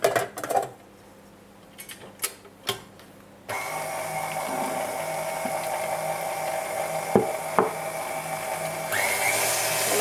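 An electric mixer whirs steadily while pastry cream is beaten into a dessert between spoonfuls, starting after a few quiet knocks and clatters and running as a continuous mid-level drone.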